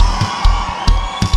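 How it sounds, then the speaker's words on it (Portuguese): A festival crowd at a live band show in Caibi, Santa Catarina shouts and cheers loudly over steady music, with several bursts of whooping rising above the din. "Quem gostou do momento, dá um grito bem alto aí, galera."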